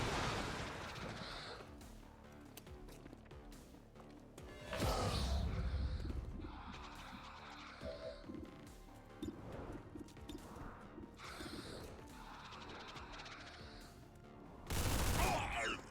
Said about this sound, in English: Grenades, loud explosions